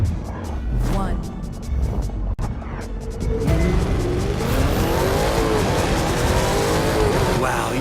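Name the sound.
sleeper car launching and accelerating in video game The Crew 2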